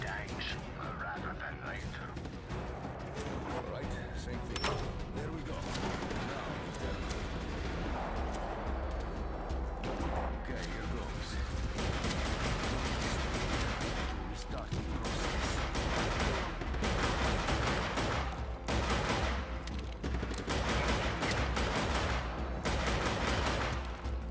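Sniper gunfire goes off in a video game. Repeated sharp shots and bursts punch through a dense, busy game soundscape, while a person talks over much of it.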